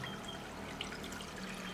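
About two cups of water poured into a cooking pot for a breakfast batter dish, making a steady, continuous gushing trickle. Close, even in volume and uninterrupted, with no talking.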